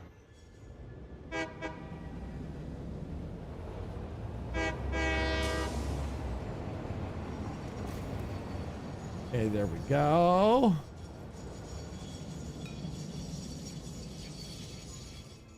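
Trains roll along tracks in the Satisfactory video game with repeated horn toots, a long rising and falling whistle blast near the end and a low rumbling bed, while someone talks briefly.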